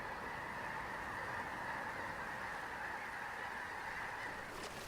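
A large flock of wintering swans on the lake at Sanmenxia in central China calls continuously, a dense wash of honking voices blending into a steady mid-distance chorus.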